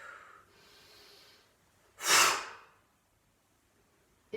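One sharp, forceful exhale bursts out as a karate punch is thrown at a punching bag, preceded by softer breathing in a quiet room.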